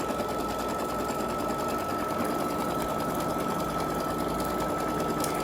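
An embroidery machine stitches a tack-down line on shrink film, giving a steady, fast, continuous mechanical whir and rattle at close range, with no talking.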